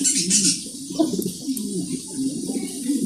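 Mundian pigeons at a pigeon farm give low, rolling coos that repeat throughout, close and clear, with a few faint higher chirps in the background.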